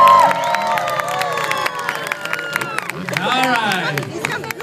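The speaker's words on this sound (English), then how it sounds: "Send them out with a round of applause." At a county fair freestyle motocross show, a crowd cheers and claps after a stunt, with scattered applause, shouts and babble in a lively outdoor mix.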